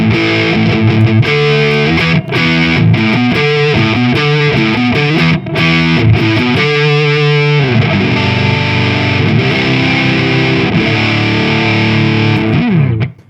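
An electric guitar played through an Akai compressor pedal, with dense, fuzzy, even-level chords and picked notes ringing out in a steady stream before stopping, loud and alone.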